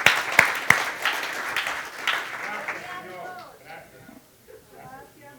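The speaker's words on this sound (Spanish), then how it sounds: "Yo me alegro por eso, yo aplaudo con ustedes." A church congregation breaks into applause, a burst of sharp claps that thins out over several seconds as a voice speaks over it.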